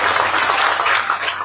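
A brief burst of full, close audience applause at a public talk, loud and unbroken throughout.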